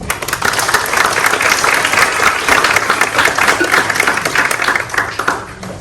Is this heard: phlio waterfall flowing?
no